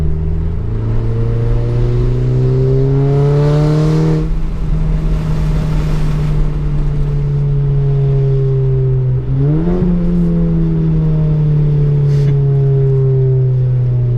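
A turbocharged K04 Audi A4 four-cylinder, making 330 wheel horsepower on methanol injection, pulls hard under acceleration with a loud, steadily climbing engine drone. A brief dip around a gear change is followed by another rising pull, with no talking.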